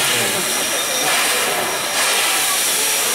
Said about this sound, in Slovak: Táto lokomotíva má 4-válcový parný stroj.